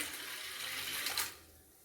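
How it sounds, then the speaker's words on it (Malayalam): Water pours from a cup into a pressure cooker holding washed split green gram, a short bright splashing stream that swells and then tapers off. "കഴുകിയ പരിപ്പ് കുക്കറിലിട്ട് ഒരു 3 കപ്പ് വെള്ളം ഒഴിക്കാം."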